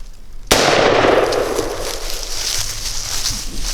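A single loud, close gunshot during a wild hog hunt cracks sharply and then rings and echoes across open ground for several seconds, with no talking.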